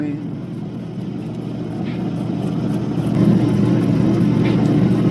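A diamond wheel grinds opal with a steady droning whir that grows louder partway through, close and continuous.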